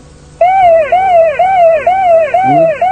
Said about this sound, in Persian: الان ماشین توی دنده هست، آژیر میزنه که الان بایستی خلاص کنه